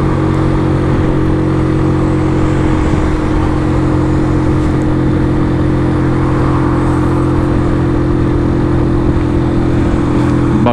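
A Superlight 125 motorcycle engine held high, near 6000 rpm, climbing an uphill road between cities during break-in, a loud steady droning whine with constant pitch and wind rush throughout.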